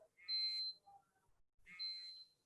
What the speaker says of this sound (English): it starts beeping and instantly sending the data that devices are too close to each other